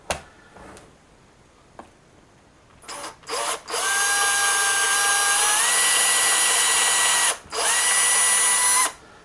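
A power drill whirs loudly and steadily for several seconds, pitch dipping slightly as it bites into a resin model figure piece, after a few short trigger bursts.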